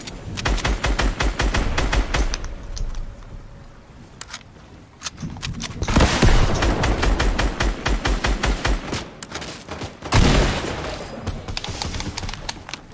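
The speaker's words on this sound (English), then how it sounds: "Is that minigun, dude? Oh, Jesus, this one shoots fast." Minigun rapid fire in the video game Fortnite Battle Royale, long loud bursts of very fast rattling shots with brief pauses between volleys, close and dominant with no talk over it.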